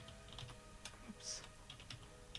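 Quiet, close computer keyboard typing with irregular light key taps scattered throughout, soft and clicky against a faint background.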